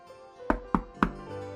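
Three evenly spaced knocks on a door, sharp and close, each with a short resonant ring, over a low steady background hum and no talking.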